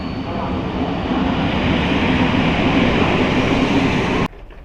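Steady rumble of a train heading to Zakopane, a broad continuous roar that holds evenly at close range before cutting off abruptly near the end.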